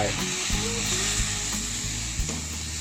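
Fresh shrimp and minced pork stir-fry in a hot pan for holy basil stir-fry, a continuous loud sizzle broken by a few clanks of a spatula scraping the pan, with no speech.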